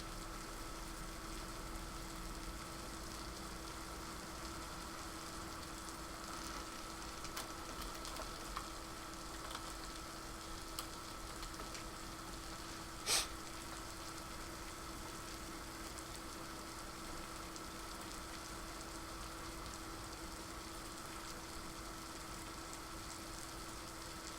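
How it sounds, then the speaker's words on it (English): Heavy rain falls outside an open window, a steady dense hiss with a low hum underneath, constant and moderately loud, with one sharp click partway through and no talking. "Yeah, it started raining hard, man."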